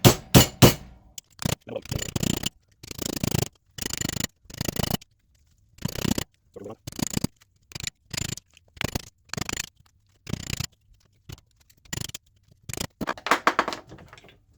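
An old knife scrapes plastic off the metal of an Eaton M62 supercharger in short, sharp, repeated strokes with brief silences between them, close and fairly loud, with no talking.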